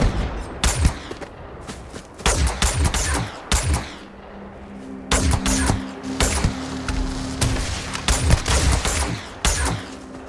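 Rapid bursts of gunfire in the space game Starfield, sharp loud volleys stacking into continuous fusillades with short gaps, a faint droning hum beneath.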